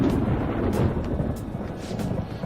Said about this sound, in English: Whoa, it sounds like it's going to rain.